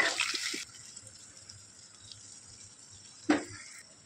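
Water poured into a pan of soybean and potato curry, a short splashing pour at the start, then quiet with a brief stir or scrape near the end.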